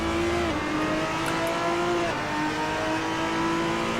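A race car engine screams at high revs in the Assetto Corsa racing game, holding a loud, steady, close tone with quick pitch dips at gear shifts and no talk over it.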